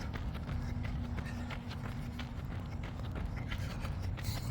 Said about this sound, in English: You can hear the footsteps getting faster.